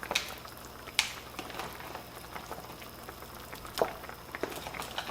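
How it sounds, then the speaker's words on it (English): Sweet and spicy Thai meatball sauce simmering at a low boil, with soft irregular bubbling pops and faint liquid patter, a few sharper clicks standing out against a steady quiet background. "Okay, we've got it on a low boil."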